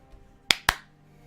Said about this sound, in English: I clapped twice